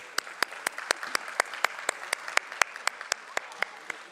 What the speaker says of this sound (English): can we have a huge roaring round of applause for Omnitech Engineering Limited